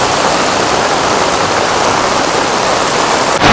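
Torrential monsoon rain in Rishikesh with floodwater rushing through the street, a loud, dense, unbroken roar of pouring water close by.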